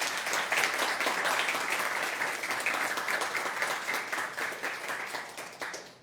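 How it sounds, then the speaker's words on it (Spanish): Audience applause for a speaker at the close of a talk on gender and architecture, a dense, steady wash of many hands clapping that fades slightly toward the end. "Nuevamente un aplauso, por favor, para nuestra ponente."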